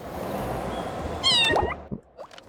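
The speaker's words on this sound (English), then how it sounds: "I'm meowing for help." A cat meows once in the video game Little Kitty, Big City, a clear rising-falling cry over a soft background rumble, followed by a couple of faint short sounds.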